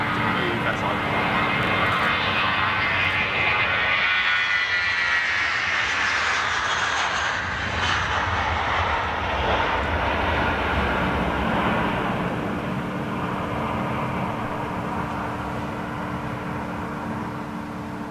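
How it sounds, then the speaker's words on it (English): A small Embraer jet departs Schiphol airport in Amsterdam with a steady, loud engine roar that swells as it passes and then slowly fades, while someone talks over it at times. "Oh, intersecting departure, little embraer."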